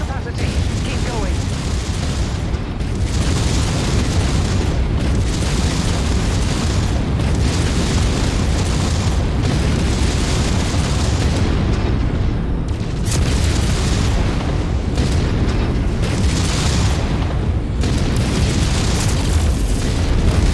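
In a mech video game, SRM missile salvos explode in a steady roll of deep booms and bursts over about twenty seconds, loud and continuous with brief breaks. A voice speaks over the blasts.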